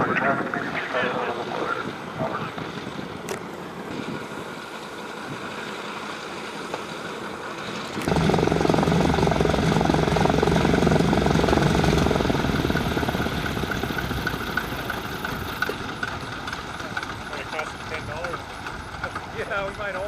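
A floatplane at a small-airport fly-in in Bemidji, Minnesota, settling off the step onto the water, its engine a steady broadband roar that swells abruptly partway through and then holds loud and near to the end, with wind and water wash.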